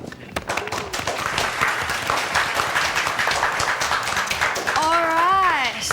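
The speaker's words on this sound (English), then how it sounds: "Let's give them a big round of applause." Applause from an audience welcoming the quiz teams at a quiz show, a dense wash of clapping filling the clip at steady volume, with voices talking over it and a short rising vocal tone near the end.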